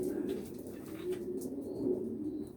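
A Tort Grizzle pigeon coos steadily nearby, a low rolling burble that swells and fades in repeated phrases over faint background chatter.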